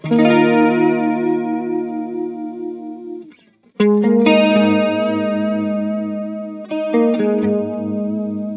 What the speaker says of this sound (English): Here it is with the chorus as well.